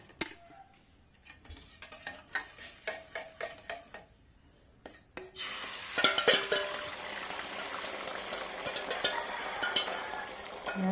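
A spoon stirs food in a pan after salt goes in, scraping and clinking in quick repeated strokes, then a louder, continuous sizzle of frying takes over for the rest of the stretch.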